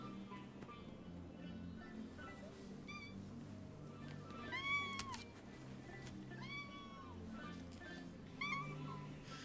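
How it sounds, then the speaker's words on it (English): A cat meows repeatedly in short, rising calls near the microphone, with a couple of louder drawn-out meows, over a steady low background hum. "I'm just getting all the meows for you."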